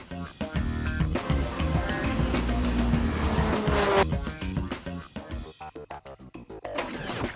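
A race car lapping the Magny-Cours circuit at speed, with a loud revving engine shifting through gears, tires squealing through a corner, and the roar fading into choppy, closer bursts toward the end.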